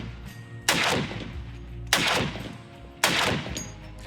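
AK 50 rifle firing three heavy single shots about a second apart, each a loud, close blast with a long rolling decay outdoors.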